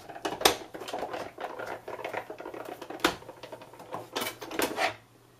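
Crafting plates stacked around a Cuttlebug embossing folder are cranked through a die-cutting machine, giving a run of grinding, clicking mechanical rattles with a few sharp clacks, close and unaccompanied.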